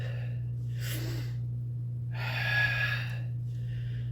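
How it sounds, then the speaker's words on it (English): Qi gong butterfly breathing exercise: two audible breaths, a short airy intake followed after a pause by a longer, louder rushing exhale, close to the microphone over a steady low electrical hum. "butterfly breathing."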